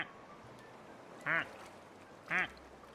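Two short, clear duck quacks in the GTA V video game, spaced about a second apart over a low, steady background hum, with no talk.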